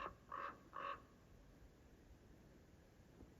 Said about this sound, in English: I don't know if those were ravens or crows